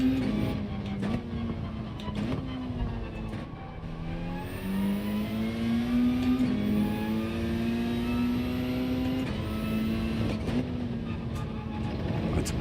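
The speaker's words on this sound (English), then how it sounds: "Doing a real gentle sequence of downshifts" Race car engine in Gran Turismo 7 droning steadily with a gentle sequence of downshifts, the pitch stepping up and down with brief blips between gears, loud and close, with no talk.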